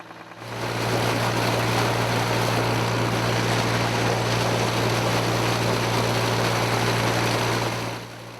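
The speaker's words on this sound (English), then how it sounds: "They run another well with a diesel engine." A diesel engine drives a farm well pump with a steady, loud drone and a strong low hum, starting up after a brief moment and running evenly before easing off at the end.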